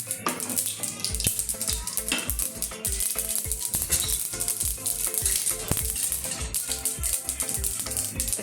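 Cumin and asafoetida frying in hot oil for a cabbage sambharo, a dense continuous sizzle with bursts of crackling and stirring scrapes, close and steady.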